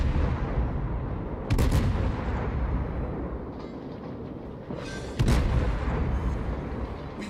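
Naval guns on a Des Moines cruiser in a naval video game fire in two heavy, booming salvos a few seconds apart, loud and close over a continuous low rumble of ocean and engine ambience.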